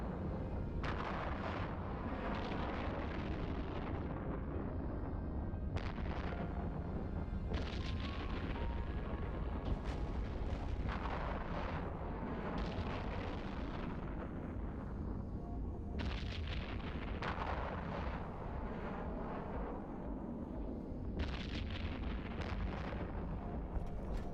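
Repeated heavy booms and blasts from spaceship explosions in EVE Online, rumbling one after another over a constant low roar, loud and dense throughout.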